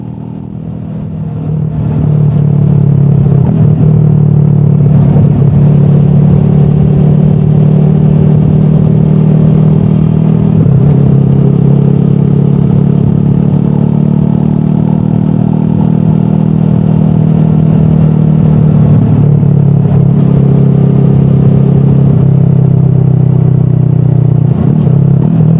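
A Triumph Scrambler 400 XC single-cylinder motorcycle under way, its engine a loud, steady low drone close to the rider, rising in as the ride begins and holding with slight shifts in pitch and a few brief dips.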